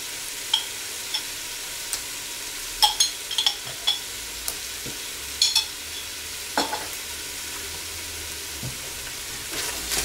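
Tomato paste frying in a pot for a lamb tagine, a soft continuous sizzle punctuated by repeated scraping clicks of a utensil stirring against the pan, close by and without speech.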